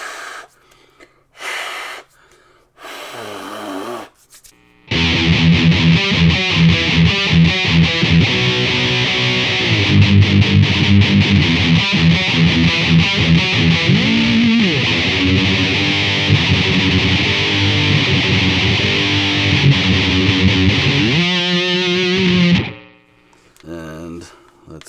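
Electric guitar played through the Metal Zone distortion effect of a BOSS GT8 multi-effects processor into a Twin Reverb amp, sounding as a loud, sustained, heavily distorted riff for about eighteen seconds after a few short test strums.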